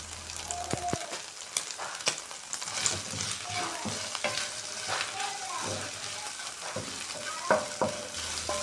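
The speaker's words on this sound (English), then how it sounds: "So I'm just going to allow this to keep frying until I begin to see oil in the pan." Beef stir-fry sizzles and crackles steadily in a hot pan, with occasional scraping clinks of a utensil stirring.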